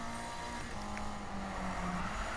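Car engine drone from a race in the Need for Speed video game, a steady moderate hum with a sustained tone that shifts slightly in pitch, without talking.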